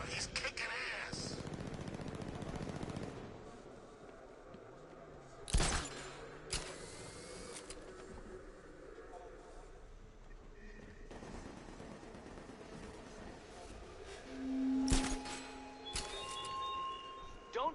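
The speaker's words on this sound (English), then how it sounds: "the Bat's got a cannon on his car" Heavy blasts from the Batmobile's cannon in Batman Arkham Knight ring out as a few loud, separated shots over a low rumble of game noise, with a voice speaking at times.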